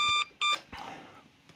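A phone ringing with an incoming call, two short electronic beeping rings close together followed by a brief click and a fading noisy tail.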